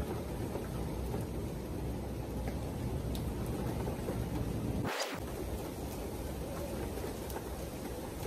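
Heavy rain pours down in Dubai, a steady dense hiss filling the whole scene from start to finish, with one short sharp disturbance midway through.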